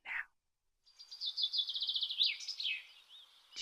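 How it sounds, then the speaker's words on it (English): A single bird calls outdoors, giving a quick high trill after a brief chirp, fairly faint against an otherwise quiet background. "Did you guys hear that bird?"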